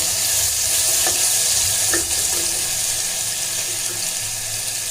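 Crushed ginger and garlic sauté in hot oil with a constant, fairly loud hiss and a few faint scraping stirs, no voices present.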